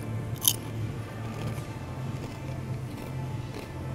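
Someone bites into a Lay's kettle cooked beer and cheese potato chip, giving a sharp close crunch early on, followed by fainter chewing crunches over a low background hum.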